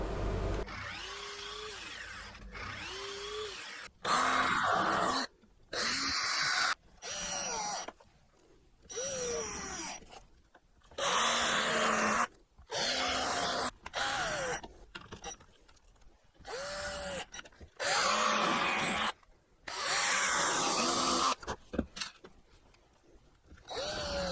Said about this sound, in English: A couple of chops on the chop saw.